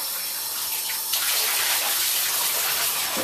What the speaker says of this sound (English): We get some warm water.